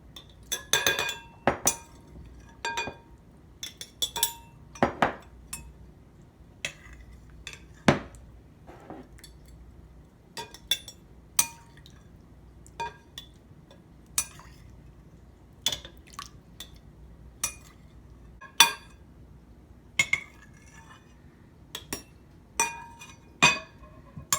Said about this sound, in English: use a spoon and scoop up the cucumbers. Take a little bit of the brine and spices with you